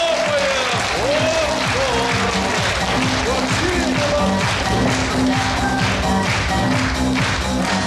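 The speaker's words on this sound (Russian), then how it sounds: "Давайте и похлопаем!" An audience claps steadily through a New Year stage show in the hall of a district house of culture, the applause continuous and fairly loud, with music and voices mixed in.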